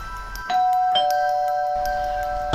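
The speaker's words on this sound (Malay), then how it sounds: "ada orang membunyikan loceng di kediamannya" Doorbell sound effect in a horror story: a single bright two-tone chime rings out and sustains with a long, even decay, fairly loud and clear against quiet background, with no voices.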